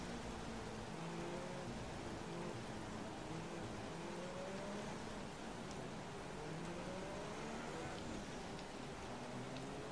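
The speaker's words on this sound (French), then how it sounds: "sous la pluie. En plus, forte pluie" Steady, dense hiss of heavy rain pouring down in the F1 2016 racing game at the Italian Grand Prix, with a low engine rumble underneath and no speech.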